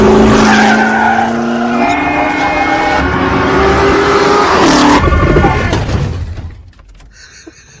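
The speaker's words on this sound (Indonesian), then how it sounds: "Dan Shelby pun langsung tancap gas." A Ford GT40 race car accelerates hard with a loud, drawn-out tire skid and a rising engine whine. A crash-like burst follows, and the sound fades to near silence at the end.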